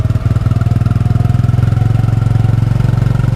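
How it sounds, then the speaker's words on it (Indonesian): A motorcycle engine idles with a steady, loud, pulsing rumble as it pulls into a house yard and parks at night, heard close and alone without talk. "Saya dengar suara motor"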